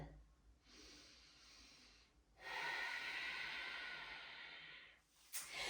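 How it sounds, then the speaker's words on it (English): Close, audible breathing during a yoga forward fold: a long inhale, then a fuller, louder exhale that tapers off, ending with a short sharp breath. "take one more deep breath here"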